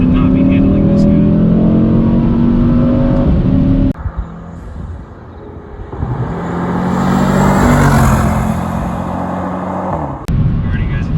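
A 2021 Mercedes E63s AMG wagon engine hums and swells while driving, rising to a strong surge in the middle. Road and wind noise sit underneath, and someone talks over the first part.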